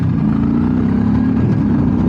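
A motorcycle engine drones loudly and steadily beneath a rider's Sena Stryker helmet, with slight shifts in pitch as the bike downshifts through the gears. Heavy wind and engine rumble run continuously, and no voices are heard.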